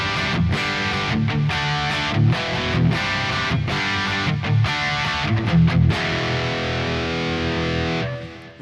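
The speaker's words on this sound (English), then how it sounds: "going back to the Mezza Boogie" Electric guitar through a Kemper Mesa Boogie amp profile plays heavily distorted chords in choppy, rhythmic bursts, loud and close, then rings out in a final sustained chord with no talking.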